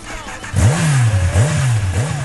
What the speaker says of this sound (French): Une fois le burn lancé, on donne un grand coup d'accélérateur pour faire beaucoup de fumée d'un coup.